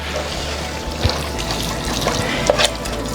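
Milk pours steadily into sausage gravy cooking in a pan, making a continuous soft splashing, trickling wash over a low background hum, with a few brief clatters.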